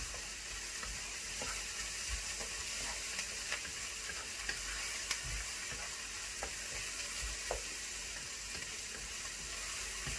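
Onions fry in a pan for an eggplant filling, a steady, even sizzle with soft scrapes and clicks of stirring throughout, close and continuous with no talking.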